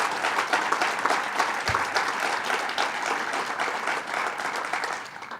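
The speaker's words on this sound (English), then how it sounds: "So let's give a round of applause to all the legislators who are here." Audience members applaud legislators at a New York State bill signing that legalized mixed martial arts, a full, sustained round of clapping that tapers slightly toward the end.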